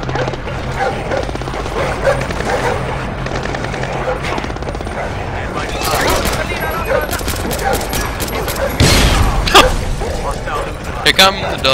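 Dogs bark and yip repeatedly amid rapid bursts of gunfire and chaotic action noise in Splinter Cell Blacklist co-op, loud and busy throughout.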